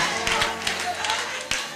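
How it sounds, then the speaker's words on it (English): Church congregation clapping hands in praise, irregular sharp claps from a crowd over murmuring voices and a low drone. "Clap your hand and praise the name of the Lord."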